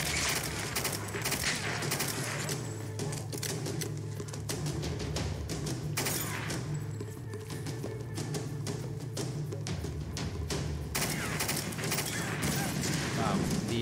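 Rapid, spread-out gunfire rattles steadily through a Tomb Raider firefight, continuous bursts of shots at moderate level with a person talking over them.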